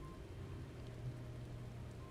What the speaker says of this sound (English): Amidst the sound of falling rain, your voice called from within.